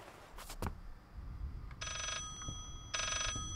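An old-style telephone in the horror game Layers of Fear rings twice, two bright electronic bursts about a second apart, preceded by a couple of sharp knocks and low rumbles, no talk.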